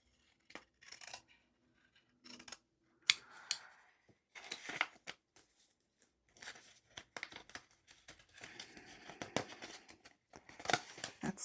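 Scissors snip and trim a folded sticker sheet in a quiet room, giving short crisp cuts and papery rustles in scattered bursts, close and fairly soft.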